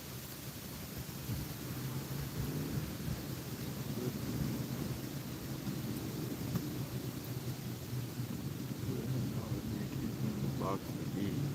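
Thunder rumbles during a storm at a fishing spot near a sandbar, a steady, heavy low roar with wash and rain-like hiss that holds for the whole stretch, fairly close and loud.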